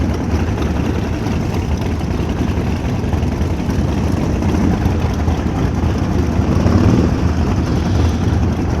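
A group of Harley-Davidson Sportster motorcycles on a Highland road tour in Lochgilphead, Scotland, rumbles past with a loud, sustained low engine drone that swells slightly toward the end.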